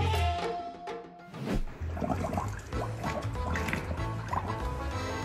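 Water being splashed and poured by a playing child, with gurgling, dripping and filling sounds, a brief quiet gap, then continued busy splashing at moderate level.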